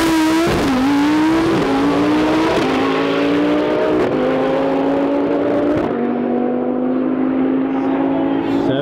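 Underground Racing Lamborghini launching at a TX2K21 drag race, a loud, close engine roaring through rapid gear-by-gear rising pulls, then fading slightly as it pulls away.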